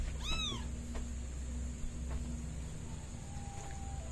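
A domestic cat meows once, a clear rising-falling cry near the start, followed by quieter household background with faint clicks and a low steady hum.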